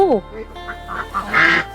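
Ducks quack in short nasal bursts at a rural camp, several calls overlapping in quick succession, fairly close and loud, with people talking alongside.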